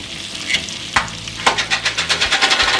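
Minced garlic hits a hot pan for shrimp scampi, breaking into a loud sizzle with a few scraping stirs, then rhythmic stirring strokes over steady frying.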